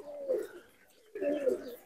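Malwai pigeons coo nearby in two distinct, throaty rolling phrases separated by a short pause.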